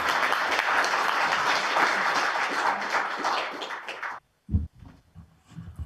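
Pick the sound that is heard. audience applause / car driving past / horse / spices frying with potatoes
audience applause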